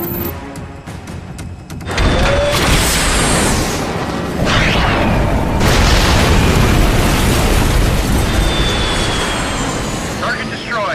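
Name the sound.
explosion from a missile strike in an action movie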